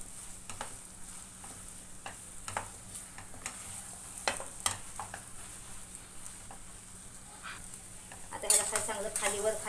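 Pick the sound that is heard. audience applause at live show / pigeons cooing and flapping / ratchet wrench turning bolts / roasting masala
roasting masala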